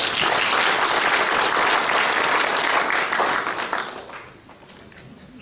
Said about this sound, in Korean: 더 열심히 하라고 격려의 박수 한번 주시죠.